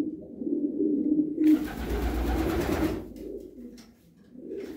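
Racing pigeons kept for short-distance races coo steadily at close range, with a brief burst of broadband rustling partway through.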